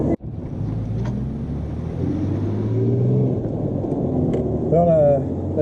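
Jaguar E-Type 4.2 coupé engine idling as it warms up, a steady low rumble close by with some wind buffeting, and a brief whistle-like tone near the end.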